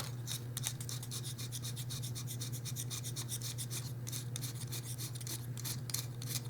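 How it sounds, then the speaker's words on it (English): A craft knife scrapes red chalk in quick rhythmic strokes, a close dry rasping that repeats steadily throughout over a low constant hum. "use a craft knife to scrape the chalk"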